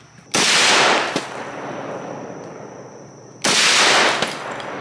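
Two loud, close M1 Garand rifle shots ring out at a shooting range about three seconds apart, each followed by a long echoing decay.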